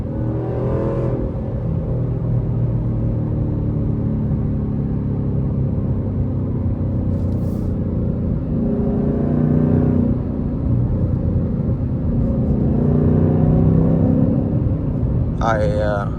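S650 Mustang on Nitto NT05 tires rolling along a road, a steady low engine and tire rumble that swells slightly toward the end, with someone talking over it.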